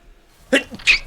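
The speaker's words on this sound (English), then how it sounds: "Sorry, I had to sneeze." A single sneeze bursts out suddenly and loudly near the microphone in an otherwise quiet moment, with a sharp inhale followed by a brighter explosive release.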